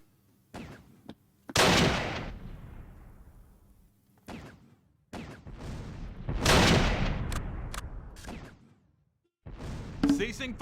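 Artillery blasts and bursts of gunfire from the Close Combat wartime video game, set at Mortain in 1944, arrive as loud booms with long decaying rumbles, separated by short quiet gaps and sharp scattered shots.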